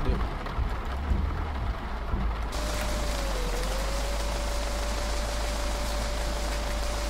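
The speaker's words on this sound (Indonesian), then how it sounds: "Hujan turun lagi." Rain falls in Euro Truck Simulator 2 while driving, a dense steady hiss of drops over a low engine drone, with no talking.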